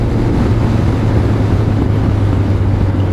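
Yamaha XJR1300 motorcycle on a test ride, giving a steady low engine drone buried in heavy wind rush, loud and continuous without a break.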